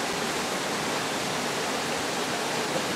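A trout creek flows below a cabin's back porch, giving a steady, even rush of running water that stays constant throughout with no voices.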